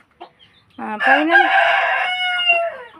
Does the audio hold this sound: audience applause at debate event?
no